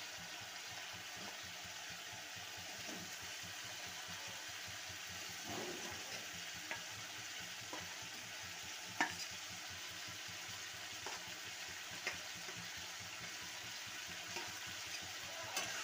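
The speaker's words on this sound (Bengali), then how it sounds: "ভালো করে কষিয়ে নেব।" Fried potatoes and eggplant are sautéed in a pan with spices, a soft low sizzle under quiet, irregular scrapes and taps of a spatula, faint and steady throughout with no talk.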